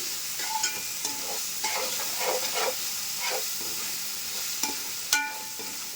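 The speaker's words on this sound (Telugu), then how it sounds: "ఇదంతా కొంచెం బాగా వేయించుకుందాం." Mint and coriander masala fries and sizzles in hot oil, stirred steadily with a spoon, with a continuous close sizzle, scraping strokes and a few sharp clinks against the pan.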